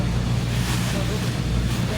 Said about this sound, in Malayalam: അതിലേക്ക് പുതിയ അതിഥികളുമായാവാം ഒരു ബോട്ട് അടുക്കുന്നു.